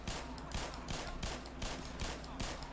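A player's gun in the game Black Mesa fires in a rapid series of regularly spaced shots. The shots are fairly quiet against a dense, noisy game soundscape.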